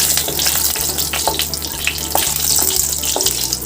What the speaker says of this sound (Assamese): গেছটো কমত থৈ পেলাই ভাজিছোঁ